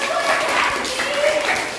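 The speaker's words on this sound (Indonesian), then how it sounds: "Tepuk tangan" Young pupils in a classroom clap together for a correct answer, a brief, busy burst of many small hands close by, with a teacher's voice and children talking running through it.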